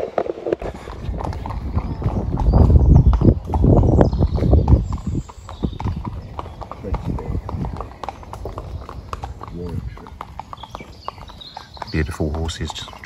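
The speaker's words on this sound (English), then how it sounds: "Beautiful horses just trotting past." Horses trot past along a countryside lane by an old mill pub, their hooves clip-clopping in a brisk rhythm that is loud at first and then fades, while people talk over them.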